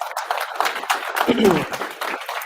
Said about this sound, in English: Let's give Trent a round of applause.